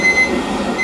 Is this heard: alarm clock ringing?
yes